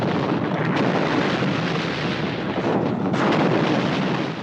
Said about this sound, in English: The biggest in Asia explosion.